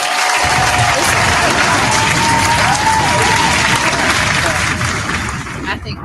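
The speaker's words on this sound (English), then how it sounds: "I think I want to stop with the claps" An audience claps steadily and loudly, a dense run of applause that thins and fades toward the end.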